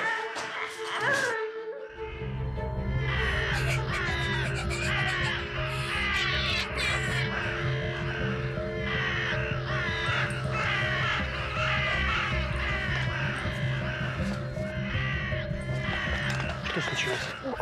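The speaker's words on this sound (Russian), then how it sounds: "послышалось воронье карканье" Several crows caw harshly and repeatedly, loud and near, with a wailing, crying voice mixed in among the calls.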